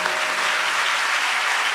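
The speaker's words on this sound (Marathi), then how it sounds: "सगळ्यात मधुर स्वर असतो मिरजकरांच्या रसिकांच्या टाळ्यांचा." A live audience claps steadily through a Marathi Christian devotional song concert in Miraj; the applause is dense and even from start to finish, with no voices over it.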